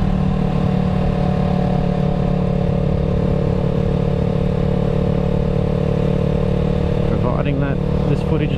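Yamaha YZF R3 motorcycle being ridden through a local area, a loud, steady engine drone with constant wind noise heard from the rider's position, and a voice speaking briefly near the end.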